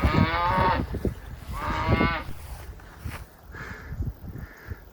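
Cattle straying onto rural property moo loudly and close, two long drawn-out calls followed by fainter lowing, with outdoor rustle behind.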